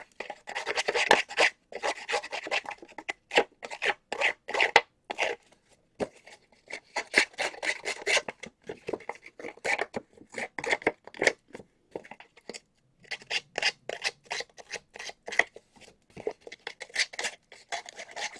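A tool roughs and distresses the edge of a strip of paper for card making, producing rapid, close raspy scraping strokes in uneven bursts with short pauses between them.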